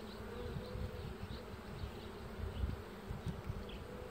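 Honey bees hum in a dense, continuous buzz around open hive frames holding emerging brood, steady and close with no voices.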